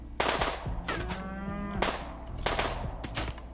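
A cow moos in RimWorld, two drawn-out bellows close and clear, interleaved with bursts of rapid gunfire, and no talking.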